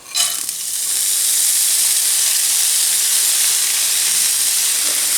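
Chopped shallots hit hot olive oil in a non-stick frying pan, giving a sudden burst then a steady loud bright sizzling hiss that holds evenly throughout, with no talk.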